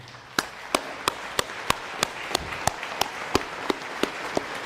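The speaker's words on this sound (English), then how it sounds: "give a beautiful round of applause for my dad, Ken Geary" Applause at a celebration of life, with one sharp, loud clap repeating at a slow steady beat over a softer, continuous wash of crowd clapping.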